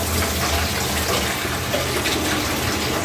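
Water runs continuously in a steady, loud gush, like a tap filling a container while washing, with no speech.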